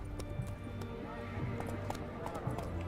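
Roach, Geralt's horse in the video game The Witcher 3, running with rhythmic hoofbeats and a neigh under a dense game soundscape, with a voice speaking over it.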